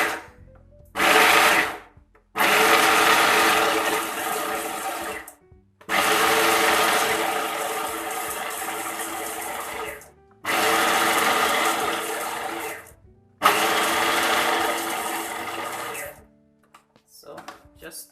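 A food processor blends falafel mixture of chickpeas with herbs and spices in five loud whirring bursts separated by short pauses, its motor droning close by.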